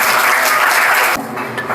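Brief burst of strong clapping from schoolchildren at a magic show, loud and continuous, then thinning out sharply near the end.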